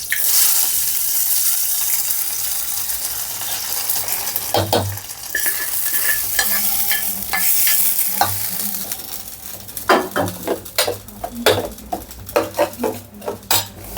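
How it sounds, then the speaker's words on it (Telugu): A hot tempering of curry leaves is poured into coconut chutney, giving a sudden sizzle and crackle followed by metal spoon clinks and stirring scrapes against the pot, with bursts of clatter toward the end. "కరివేపాకు వేసుకున్న తర్వాత దీన్ని మనం ఈ చట్నీలోకి వేసేసుకుందాం"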